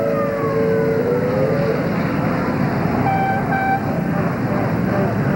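Fire engines roll past at a 1998 Memorial Day parade in Dearborn, their sirens wailing and steady horn tones rising over a loud, continuous crowd and engine rumble.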